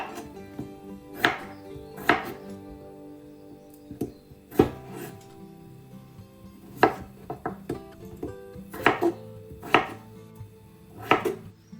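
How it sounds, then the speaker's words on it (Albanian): Knife chopping seven potatoes on a cutting board, a run of sharp, close knocks in uneven bursts with short pauses between cuts, heard alone without talk. "do të na duhen 7 patate, të cilat do t'i presim siç e shikoni edhe në video"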